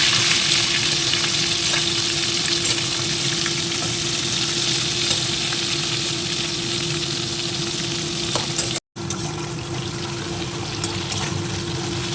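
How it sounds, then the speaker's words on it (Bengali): Vigorous, steady sizzle of crab pieces frying in hot oil with salt, turmeric and chili powder, close and continuous, with occasional light stirring scrapes and a brief drop near the end. "নুন হলুদ আর একটু লঙ্কার গুঁড়ো দিয়ে ভেজে নেবো"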